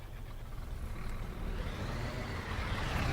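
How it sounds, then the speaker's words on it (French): A city bus engine starts up in the OMSI 2 simulator, a low diesel rumble that swells and rises in pitch toward the end, with a faint hiss of air over it. "ce que j'aime, c'est vraiment le bruit de démarrage"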